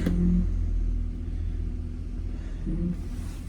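A Chevy GMC engine idles steadily with its mass airflow sensor unplugged, a continuous low rumble that swells slightly near the start and again toward the end, heard close with no talking.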